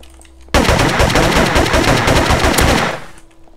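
A rapid burst of automatic gunfire in the video game MTA DayZ rattles loudly and continuously for a couple of seconds, then cuts off.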